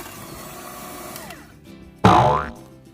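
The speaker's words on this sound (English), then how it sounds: "Blend it up again." An electric mixer blends cookie dough after salt and baking soda are added. Its steady whirring motor tone drops in pitch as it slows, then a sudden loud, buzzing surge hits and fades away.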